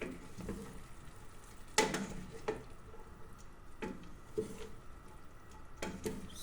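Pancit is stirred in a cooking pan over a soft, steady sizzle, with several distinct scraping and clanking strokes spaced a second or two apart, close and fairly quiet.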